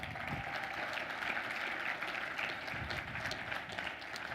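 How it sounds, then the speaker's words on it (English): A seminar audience at a sales and marketing training event breaks into sustained applause, a steady, full-room clatter of clapping that holds level throughout with no talking. "Give this guy a round of applause"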